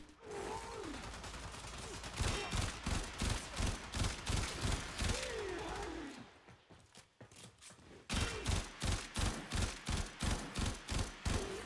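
Burston burst rifle firing in the Warframe video game: repeated rapid bursts of close, sharp mechanical shots in a steady rhythm, a short lull midway, then more evenly spaced bursts with no talk.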